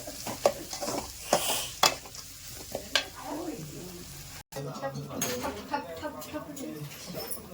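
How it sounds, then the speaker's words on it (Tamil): Liquid bubbling and sizzling in a pot, with spoon stirring and clinks of cookware, close by, while a person talks over it. "நல்லா கொதிக்குது. சலன்னு கொதிக்குது."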